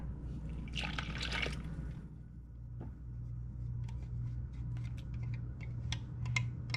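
Milk is poured into a mixing bowl of pudding mix. A short splashing pour comes near the start, then faint drips and trickles follow over a low background rumble.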